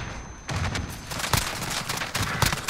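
Rapid gunfire in Call of Duty: Modern Warfare, bursts of shots cracking repeatedly across a busy battlefield, loud and close with overlapping volleys and booms.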